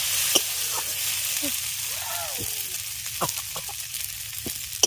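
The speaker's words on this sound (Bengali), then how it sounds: "ঢাকা দিয়ে আরও কিছুক্ষণ এটাকে ভেজে নেব যাতে সমস্ত কিছু খুব ভালোভাবে নরম হয়ে যায়" Bitter gourd leaves and potato frying in a pan, a soft, steady sizzle with occasional light crackles and scrapes; faint chirps and calls sound in the background.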